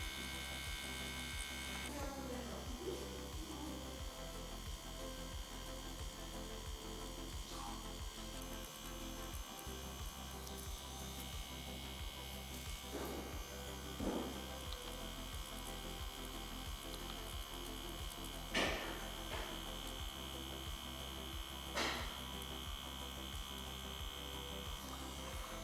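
A lip blush tattoo machine buzzes with a continuous low electric hum, steady and close throughout, with occasional small clicks and handling noises.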